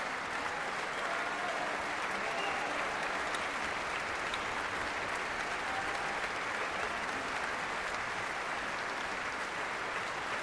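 Sustained applause from a large audience filling the main hall of the Concertgebouw in Amsterdam after a Sunday-morning concert, a steady dense clatter of many hands, broad and even throughout with no voices rising above it.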